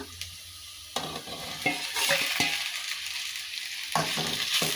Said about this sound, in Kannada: ಇದು ಬೆಂಡೆಕಾಯಿ ಎಣ್ಣೆಯಲ್ಲಿ ಚೆನ್ನಾಗಿ ಬೇಯಬೇಕು